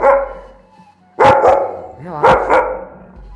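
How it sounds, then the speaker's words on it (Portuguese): A big dog barks inside a kennel, two or three loud, close barks in quick bursts, with a person speaking over and between them. "Olha o cachorrão lá, o cachorro é bonito, hein?"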